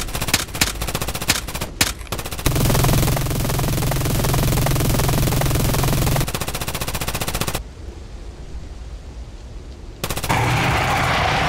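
Rapid automatic gunfire blazes during a demon fight in a video game, loud and continuous, with sharp single shots at first, then sustained dense bursts, a brief lull and a final volley.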